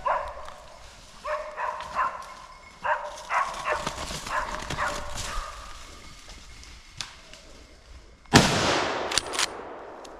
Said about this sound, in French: j'entends les chiens aboyer